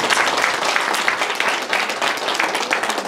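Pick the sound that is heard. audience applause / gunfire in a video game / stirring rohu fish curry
audience applause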